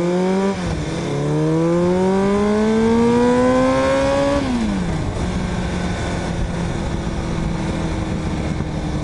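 Kawasaki motorcycle engine while riding, revs climbing through a gear, dropping at a shift, climbing again, then settling to a steady drone with wind rush.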